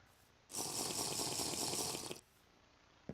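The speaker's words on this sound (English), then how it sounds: "I'll grab a quick drink of water" A drinking sound effect from the video game TerraFirmaCraft plays as one steady, loud burst of gurgling, rushing water. It lasts about a second and a half, with no speech, and quieter background sound comes before and after it.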